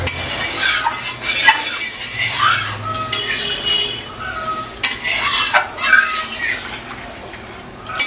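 A spoon stirring a watery mann kochu (giant taro) curry in a pot before rohu fish goes in, with repeated scraping strokes and soft sloshing of liquid, close and fairly loud.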